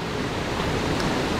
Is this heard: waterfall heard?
yes